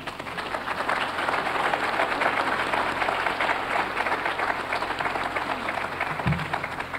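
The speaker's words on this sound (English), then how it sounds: "a hand clap, please." An audience at a 1998 fall gospel concert gives the choir steady, dense applause, a continuous rush of clapping hands in a large hall.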